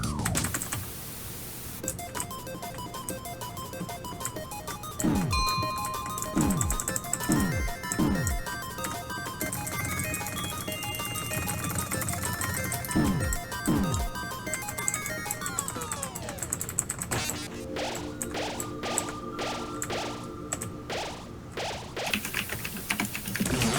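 Phone notification ringtone from the Undertale video game, with repeated chiming electronic tones and rapid clicky blips in a dense run of game sound effects lasting over twenty seconds, no talk.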